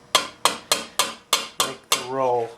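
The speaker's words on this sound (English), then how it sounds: "The slightly curved face hammer really does help me" Six evenly spaced ringing hammer blows from a slightly curved face hammer on steel armour plate for a Milanese mitten gauntlet of circa 1450, close and sharp, ending with a longer sustained metallic ring.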